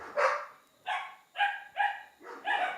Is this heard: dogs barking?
yes